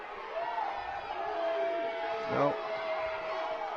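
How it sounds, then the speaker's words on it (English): A home crowd at a high school wrestling match yells and cheers as one wrestler tries to squeeze a headlock; the noisy, sustained voices swell briefly near the end, with a person speaking over the din. "You hear Hurricanes crowd yelling squeeze, trying to squeeze that headlock"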